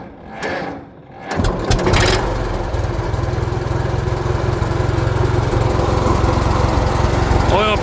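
A 1949 J.I. Case LA tractor engine cranks over after a brief mechanical clunk, catches and settles into a steady, loud, close idle with a low rumbling throb.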